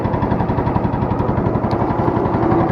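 An old riding lawn mower engine idles low and steady nearby, a continuous loud chugging pulse with no pauses.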